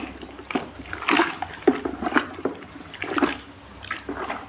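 Homemade grape wine on its fifteenth day of fermentation being stirred with a non-steel spoon: a series of wet sloshing and liquid swirls, repeated swishes close by, moderately loud, with no talking.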